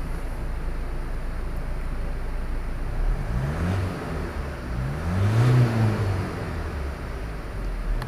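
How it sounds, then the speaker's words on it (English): A nearby Ford Transit Custom van engine idles steadily, then revs up twice, its pitch climbing and falling back each time, with no voices. "Revving up nicely"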